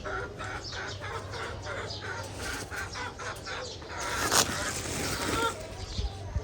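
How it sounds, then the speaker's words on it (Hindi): Chickens cluck around a yard at midday in a backyard poultry setting, with repeated soft clucks at a moderate distance in a rhythmic pattern and a brief louder burst near the middle, all over a low background hum. "मुर्गियाँ किधर गई? इधर वाली वो बाहर ही खेल रही हैं लगता है।"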